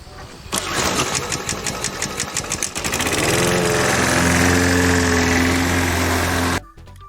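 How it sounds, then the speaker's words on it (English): A lawn mower engine starts with a rapid chugging pulse, then settles into a loud, steady running drone before cutting off abruptly near the end. "Lawn mower."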